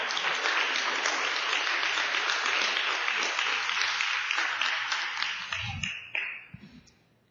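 A church congregation gives a long round of applause for the Lord during a sermon, dense steady clapping that holds for several seconds, then thins and fades out near the end.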